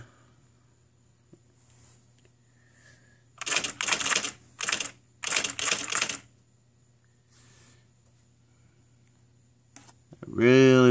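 Bursts of rapid keystrikes on an IBM Wheelwriter 2 electric typewriter, close and loud, arrive in three quick runs separated by short pauses, with a steady mechanical hum underneath and a brief burst of noise at the end.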